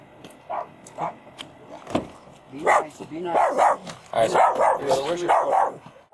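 A dog barks in a series of sharp, repeated bursts at close range, growing busier toward the end, with people talking in between.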